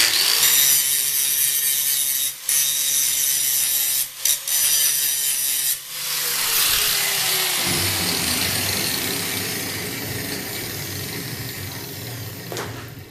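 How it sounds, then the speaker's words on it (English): Angle grinder biting aggressively into welded steel shelf brackets: a loud, sustained harsh whine for about eight seconds with brief dips at roughly 2.4, 4.2 and 5.8 seconds, then a rougher, duller grind continuing to the end. "So real quick, just a quick little show. Aggressive grinder."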